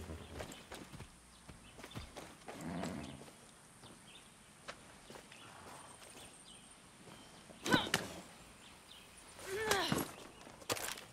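Horse hooves clip-clop in the video game Far Cry 6, scattered sharp knocks and thuds with a couple of louder strikes near the end, heard under game speech and ambient noise.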